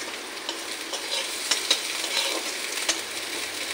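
Onions fried to a deep red in a pan with crushed garlic waiting, a steady close sizzle with occasional stirring scrapes, even and continuous throughout.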